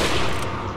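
A single loud, close gunshot rings out in Resident Evil 4 as a shot is fired at an enemy, and its blast decays quickly within under a second.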